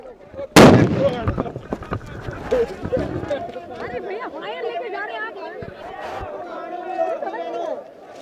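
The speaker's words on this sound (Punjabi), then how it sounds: "ਵੱਡਾ ਧਮਾਕਾ ਹੋਇਆ ਹੈ ਔਰ ਬਿਲਕੁਲ ਪੈਰਾਂ ਦੇ ਅੱਗੇ ਆ ਕੇ ਗੋਲਾ ਫਟਿਆ" A tear gas shell bursting during farmers' protest clashes at the Shambhu border, one sharp loud close blast followed by crowd chatter, shouting and running voices that continue throughout.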